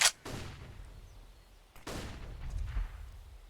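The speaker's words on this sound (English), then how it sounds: "Nade from Staz. Does some decent damage." A grenade goes off in a tactical shooter match, giving a sharp burst and then a low rumbling boom that fades, followed by a second dull blast, fairly quiet with no talk over it.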